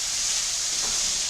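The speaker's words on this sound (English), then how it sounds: "Pretty sound of sausage frying." Sausage sizzling and spitting in a frying pan, a steady close crackle and hiss with no talk over it.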